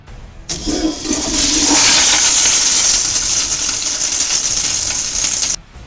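Toilet flush sound effect: a loud rushing gush of water that starts abruptly, swells and churns steadily for about five seconds, then cuts off sharply.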